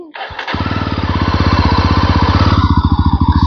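A motorcycle engine cranks and catches, then settles into a loud, close, evenly thumping idle that keeps running steadily without any voices.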